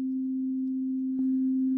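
A steady sustained electronic tone heavily compressed, holding an even, flat level with a small jump in loudness partway through, alone and without talk.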